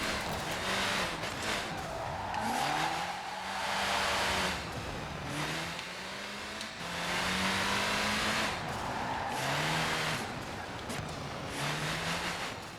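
Rally race car engine in a driving video game, revving through repeated rising and falling gear pulls with tyre noise, loud and continuous with no talk.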